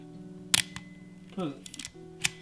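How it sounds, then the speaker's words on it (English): Epson R-D1 rangefinder camera: a sharp shutter slap, then a short ratcheting crank of the shutter-advance lever and another click, close up in a quiet room. "It actually cranks the shutter like the film camera."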